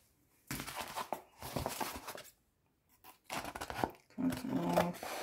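Scissors cutting through coffee-dyed paper, with several close, crisp snipping and rustling bursts separated by short pauses.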